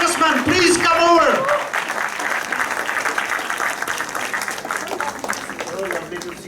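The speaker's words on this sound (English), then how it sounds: "Can you give them a round of applause?" Audience gives a round of applause for Dr. Rich and Dr. Deborah at an event, steady clapping that follows a brief spoken voice at the start and carries on alone.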